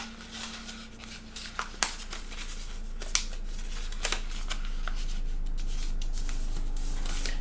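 Paper being folded and pressed flat for an origami kirigami tree with a star, heard as soft rustling and crinkling close by with a few sharper creases, steady and quiet throughout.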